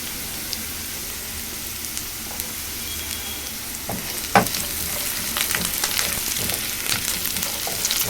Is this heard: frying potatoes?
yes